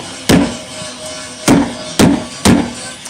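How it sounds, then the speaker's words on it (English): A hammer drives a flathead screwdriver against a tab on a GM truck fuel pump, giving four sharp metallic strikes: one, a pause, then three in quicker succession, close and loud. "They do have a special tool for that, but you can use a flathead screwdriver and a hammer."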